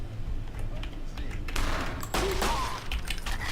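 M1911 pistol gunshots ring out in Brutal Wolfenstein, loud and close, with a cluster of heavy shots mixed into busy game noise.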